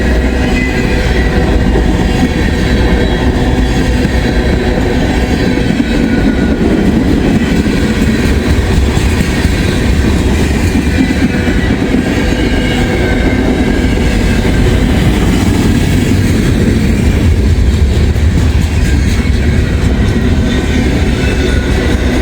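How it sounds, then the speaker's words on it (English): A train rolls past on the railway, a loud continuous rumble of wheels and cars with rhythmic clatter and some squeal, sustained and close with no talk. "Got a pretty good train here."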